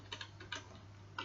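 A few light keystrokes tapped on a computer keyboard while a web address is entered for a screen reader, faint and scattered, with no talking.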